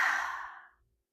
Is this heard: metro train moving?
no